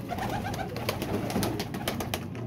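Pigeons cooing softly in a steady, overlapping murmur, with some flapping and rustling nearby and no voices.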